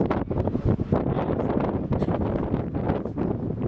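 Steady wind buffets the microphone in heavy, rumbling gusts throughout, loud and close, with no voices, during an overnight outdoor sleep-out.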